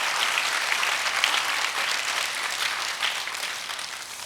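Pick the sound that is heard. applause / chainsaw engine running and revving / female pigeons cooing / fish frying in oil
applause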